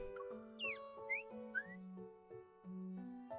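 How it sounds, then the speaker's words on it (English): A water-filled bird whistle with a woven bird decoration, in the game Love & DeepSpace, warbles through several distinct pitches as its water level is changed, short trilling chirps over a steady backing of sustained musical tones. "He adjusts the water level in the bird whistle several times. Sounds of various pitches are produced."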